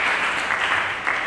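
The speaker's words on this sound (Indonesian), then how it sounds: "Tepuk tangan buat beliau, silakan." A seminar audience claps for a speaker, a dense burst of applause that runs through the whole short moment at even loudness.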